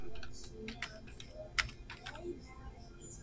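Someone types on a computer keyboard, a quick uneven patter of close keystrokes with one louder press, mixed with faint voice sounds in the background.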